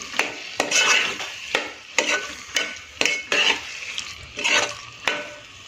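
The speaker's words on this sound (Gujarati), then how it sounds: "ડુંગળી એડ કરી દઈશું. અને સારી રીતે મિક્સ કરી દઈશું." Chopped onions tossed into a hot pan over a smoky roasted aubergine mash, stirred with a spoon in repeated scraping strokes roughly every second over a steady close sizzle.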